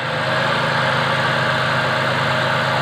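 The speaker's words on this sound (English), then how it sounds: "Nowhere near as much shake in the engine." A Ford Falcon BA engine idles steadily and evenly after an inlet manifold gasket replacement, close and constant, a smooth low drone without voices.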